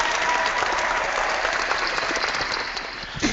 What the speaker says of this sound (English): use the cheering sound effect